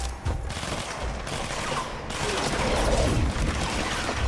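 Sustained gunfire from the video game Control, a dense rapid fusillade of automatic shots continuing throughout, loud and close with a busy game soundscape behind it.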